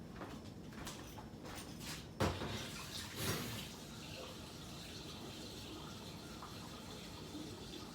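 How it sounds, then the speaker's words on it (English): Water pours steadily into a carboy, a continuous low rushing fill heard close up, with a couple of brief knocks from the container early on. "We're going to fill that up with water"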